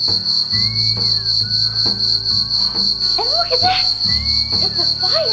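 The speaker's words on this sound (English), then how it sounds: "You can even hear the crickets chirping." Steady, high chirping of crickets runs throughout a children's museum exhibit, with a voice speaking over it and bits of cartoonish music.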